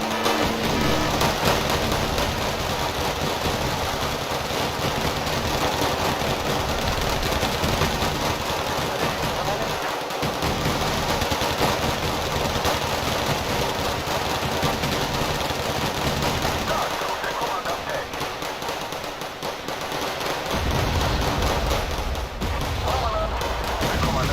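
Dense, continuous gunfire aimed at marines in the Wargame strategy game, a loud broadband rattle of machine-gun bursts that barely lets up across the whole stretch, with only brief dips in intensity.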